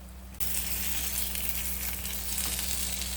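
An egg cooks in a hot pan for a half-boiled egg, with a dense, steady sizzle that starts abruptly and then holds at an even, close level.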